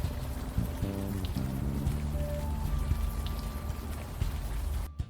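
Steady rain in the video game Unavowed, a continuous hiss and patter of drops with faint tonal game cues on top, ending in a brief cut to near silence.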